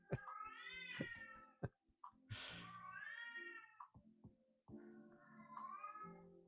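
A pet cat meows repeatedly and loudly at close range, three long drawn-out wailing calls with short gaps and small clicks between them.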